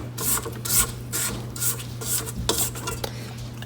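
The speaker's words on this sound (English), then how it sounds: "Periodically, you wanna stop and scrape the bowl." A spatula scrapes the sides and bottom of a mixing bowl of cookie dough in a series of close, rough rubbing strokes with short pauses between them, and no talking.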